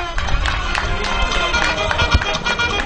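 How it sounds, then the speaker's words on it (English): Guests at a graduation party applaud, a steady, dense patter of many hands clapping at close range that runs the whole time, mixed with crowd noise and voices. "a round of applause, ladies and gentlemen"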